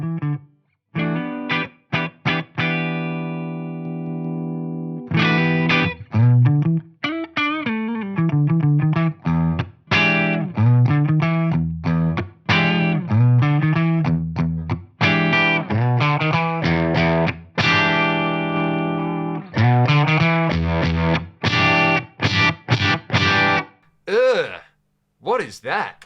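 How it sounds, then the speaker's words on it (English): Distorted electric guitar through a Marshall JMP-1 preamp, choppy notes and chords cutting off abruptly with a squashed, hard-limited sound and brief gaps. "That sounds like a really hard limiter on there or something."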